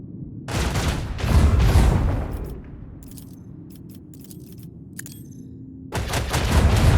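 Heavy gunfire in the Warhammer 40K Rogue Trader video game, loud booming bursts that fade into a low rumble with small metallic clicks, then another burst at the end.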